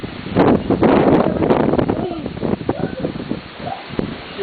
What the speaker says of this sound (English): As you can see, the wind is swirling.